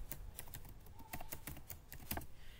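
Rapid clicking of a computer keyboard as code for an Angular unit test is typed, with steady close keystrokes running through the whole stretch and no talk.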